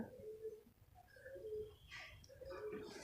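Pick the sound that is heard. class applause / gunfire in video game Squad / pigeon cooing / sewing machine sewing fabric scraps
pigeon cooing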